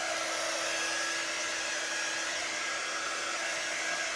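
A hair dryer blows steadily on a craft project, a loud, constant whooshing whine with a faint motor tone, running alone without pause.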